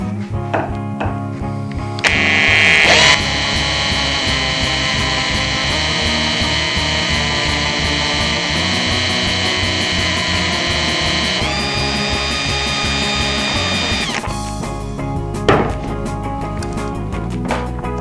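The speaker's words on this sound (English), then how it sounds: "the drill bit has allowed us to drill a hole straight through the steel. This is hardened steel, so it took a while" A power drill with a high-speed steel twist bit bores through hardened steel, a loud steady whining grind that holds for about ten seconds after a short start and then stops, with tool clatter around it.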